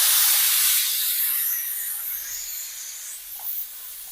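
Steam hisses loudly from a pressure cooker as its whistle is taken off while cooking mandi rice, a strong broadband rush that slowly fades over several seconds with no voices.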